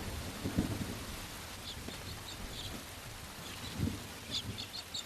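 Heavy rain from a huge inland rain depression after a cyclone falls in a steady wash, with soft low thunder rumbles at intervals and faint bird chirps above, all fairly quiet and distant.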